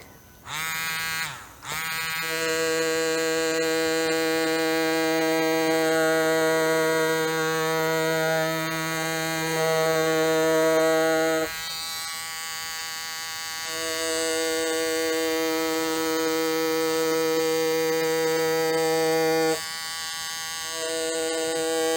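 A tattoo machine buzzes on a silicone practice arm with a steady, tonal electric whine, running in long unbroken stretches broken by brief pauses, close and alone with no talk.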